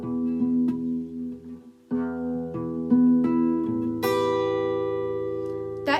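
Clean guitar picks out a song intro alone, with plucked notes and paired strings ringing in a slow, steady rhythm, close and clear with a brief pause before the phrase continues.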